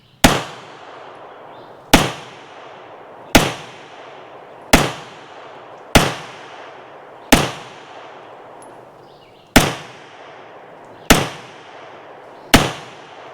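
Nine sharp 9mm pistol shots from a French Mle 1950 MAC-50 firing 124 grain brass-cased ammunition at an outdoor range, evenly spaced about every one and a half seconds, each loud crack trailing into a ringing echo.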